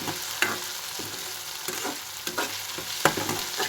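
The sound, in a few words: onion, curry leaves, mustard, cumin, garlic paste frying in oil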